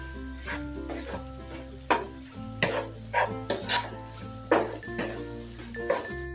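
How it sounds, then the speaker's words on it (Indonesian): A spatula stirs an egg and onion stir-fry with shrimp paste and spring onions in a hot pan, sizzling steadily as metal scrapes and clinks against the pan in irregular bursts, up close with no talk. "Aduk-aduk kembali."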